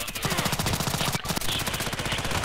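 Rapid automatic gunfire from the Contract Wars shooter game, a dense, steady stream of loud shots with a regular rhythm running the whole time, no talking.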